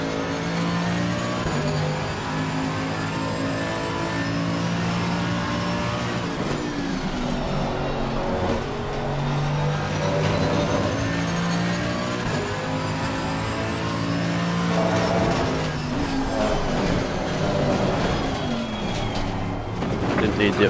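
Race car engine in a racing video game, a steady loud drone with harmonic lines shifting as it runs through the gears toward fifth, continuous and close, with a voice talking over it at times.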